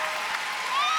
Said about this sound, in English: Lots of fans cheering for the Canadian pair that has just taken to the ice